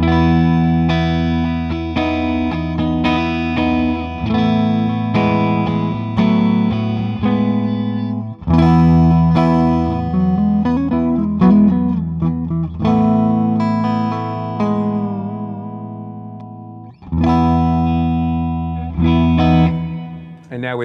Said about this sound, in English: Plugged into the Duesenberg Berlin 40-watt head here, I've just got a Keeley 1962 for some dirt and a Cavins delay reverb for a little bit of space.